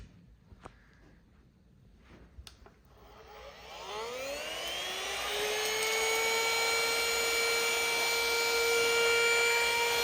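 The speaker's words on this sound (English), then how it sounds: "This is a nice little vacuum by XREXS" XREXS cordless handheld car vacuum cleaner starting up after a few light knocks and handling clicks, its motor whine rising over several seconds into a steady, loud, high-pitched hum that holds to the end.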